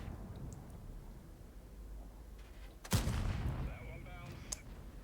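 A tank's main gun fires a single booming shot in the Malinovka map of a tank video game, sounding once midway over a low, rumbling battle backdrop.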